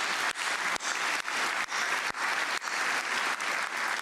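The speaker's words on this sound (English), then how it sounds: "big round of applause to Joel Fleischman" An audience at the 2023 Samuel J. Heyman Service to America Medals ceremony breaks into steady, dense applause that holds at full strength throughout, with no voices over it.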